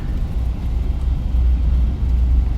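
Airbus A321neo engines at maximum reverse thrust with maximum braking on landing, a steady low rumbling roar that holds loud and even throughout.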